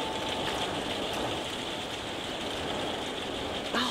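Dense, constant rain of a storm in the game No Man's Sky rushes without pause, loud and even, ending with a short sharp blip.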